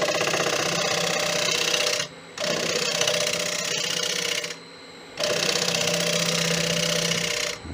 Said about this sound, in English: I'm going to use a slow bevel cut here